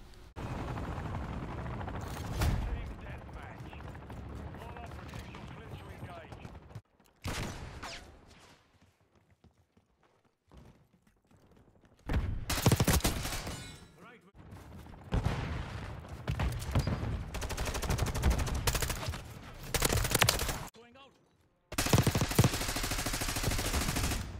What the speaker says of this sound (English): I recorded some gameplay in Modern Warfare 3 with the M4 with pretty similar attachments.